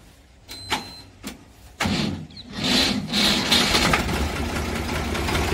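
A 1990 HMT 3511 tractor engine cranks with a few short bursts, then catches and settles into a steady, loud, near diesel running rumble, with no talk over it.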